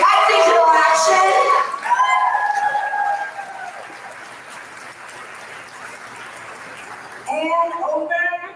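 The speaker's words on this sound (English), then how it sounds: "a big round of applause for Shtaya" An audience applauds a speaker at a talk on technology and Palestine, a steady wash of clapping that fades to a thinner patter before voices return at the end.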